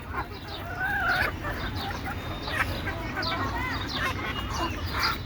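Free-ranging desi chickens cluck and crow close by in a yard, several birds calling over one another in overlapping bursts against a steady outdoor background.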